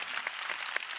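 Brief, light applause from a small audience at a school bullying definition launch event, a soft patter of scattered claps with a few sharper individual hands standing out.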